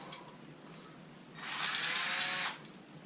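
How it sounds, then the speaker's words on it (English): An electric drill whirs at steady speed for about a second, fairly close and loud, starting and stopping abruptly while fitted with a part for a clone Y axis assembly. "So you can just simply put this into your electric drill"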